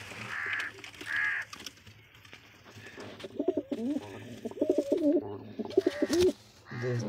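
A pigeon pair at a nest holding two eggs, with a blue male nearby, giving soft throaty cooing bursts close up, mixed with a few louder calls and brief rustling.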